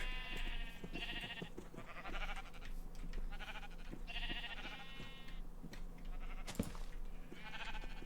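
Minecraft sheep bleat in repeated short, nasal calls over a steady low game hum, several bleats overlapping, with a brief sharp click partway through.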